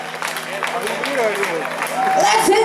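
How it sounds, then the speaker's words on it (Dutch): A festival crowd at the Hoeverock outdoor rock show applauds, a broad wash of clapping and cheering under a loud amplified voice speaking over it throughout. "Applaus voor Hoeverock."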